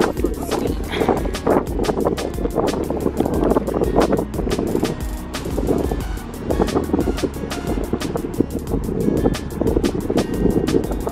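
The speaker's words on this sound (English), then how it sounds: "Excuse if it's a bit windy." Wind buffeting a microphone outdoors near a Daiso shop, loud rumbling gusts that keep rising and falling through the whole stretch, with no one talking.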